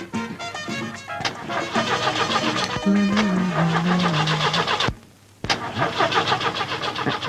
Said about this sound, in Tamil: ஏப்பா டிரைவர், வண்டி எப்பப்பா ஸ்டார்ட் ஆகும்?